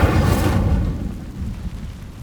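A whooshing, rumbling burst of the Incendio fire spell cast in Hogwarts Legacy, loud at the start and then trailing off into a low, fading roar, with no talking.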